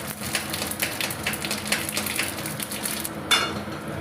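Radhuni and cumin seeds sizzle and crackle steadily in hot oil in a home kitchen, with a sharper spit of frying near the end, close and fairly loud with no voices.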